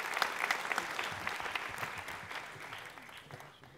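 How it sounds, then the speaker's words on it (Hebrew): Applause from an audience at a formal scholarship ceremony: a broad, continuous wash of many hands clapping, moderately distant, gradually fading toward the end. "מגיעות למחיאות כפיים רבות מאוד"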